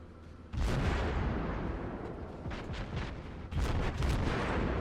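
Cruiser guns fire high-explosive shells in a naval video game, the German light cruiser Königsberg, heard as loud booming salvos with a sustained rumbling roar between them and a heavy new blast near the end.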